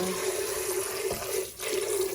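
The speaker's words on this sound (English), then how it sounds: "And what I like to do is take it, rinse it with water" Water swishes and rushes inside a blender jar being rinsed, a steady close splashing hiss with a brief dip near the end.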